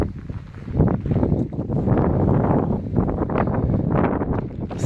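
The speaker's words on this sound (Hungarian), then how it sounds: "A szél lesz új erősen" Strong wind gusts across a vineyard hillside near a chapel at Mezőfalva, roaring and buffeting the microphone in loud, uneven surges.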